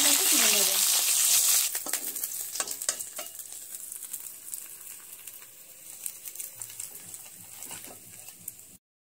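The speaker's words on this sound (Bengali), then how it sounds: "মাছটা বেশি কড়া করে ভাজার কোনো দরকার নেই, মাছটা হালকা করে ভেজে নিয়ে" Bhola fish frying lightly in hot oil, a loud steady sizzle at first that drops to a softer crackle with scattered pops and spatter over the following seconds.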